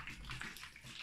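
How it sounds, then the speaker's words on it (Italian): Water runs steadily as salted anchovies are rinsed during preparation with wine and vinegar, a soft continuous splashing close by. "Adesso facciamo una prima sciacquata."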